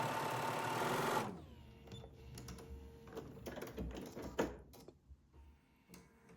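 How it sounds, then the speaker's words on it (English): Sewing machine stitching three quilt units together with a scant quarter-inch seam: a fast steady whir for about a second, then stopping, followed by quiet handling clicks and fabric shuffling close by. "And now I'll sew these 3 units together that go across the center."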